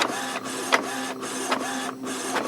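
An Epson XP inkjet printer runs a copy job, its carriage whirring steadily with repeated rhythmic passes and clicks, loud and close, with no voices.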